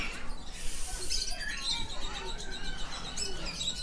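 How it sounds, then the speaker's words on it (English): Parrots and lovebirds fill the air with continuous overlapping chirps, squeaks and whistles, a busy, close chorus with no pauses. "So these are the famous swearing parrots."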